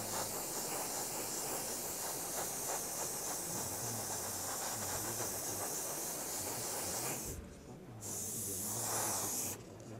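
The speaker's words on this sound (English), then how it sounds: "all we'll do is just put a very light mist coat on" Airbrush spraying a very light mist coat of Tamiya paint thinned about 50-50, a steady close hiss running almost unbroken for most of the stretch, with two short pauses near the end.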